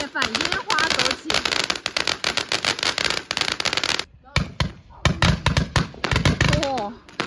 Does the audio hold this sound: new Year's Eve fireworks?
yes